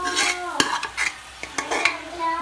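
Cooked tapioca is stirred into masala in a pan, with several sharp scrapes and clinks of a spoon against the metal over a light sizzle, close and unhurried, and no voices.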